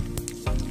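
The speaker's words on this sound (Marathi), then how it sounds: "त्यानंतर आपण एका कढईमध्ये तेलात काही मसाले टाकून घेणार आहोत. सर्वप्रथम आपण टाकून घेतलेले आहे जिरे," Cumin and spices hit hot oil in a kadhai, giving a loud close sizzle with brief crackling bursts and a fresh surge of frying near the end.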